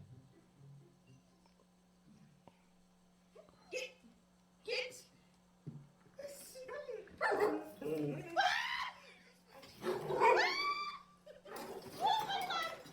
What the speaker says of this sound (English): dog decided to help out by getting into a scuffle with the raccoon